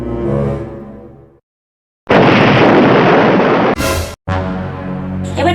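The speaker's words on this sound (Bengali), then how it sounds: "না মা, দিয়ালির বোম ফাটছে।" Loud Diwali firecrackers bursting: a long, dense roaring blast that sustains for about two seconds, cut by a brief gap and then resuming, following a stretch of talk and a moment of silence.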